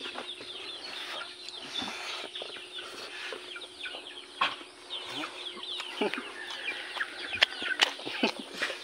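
Chickens cluck and squawk nearby in an outdoor setting, with irregular calls scattered over a steady background hum and occasional sharp sounds, and people talking faintly.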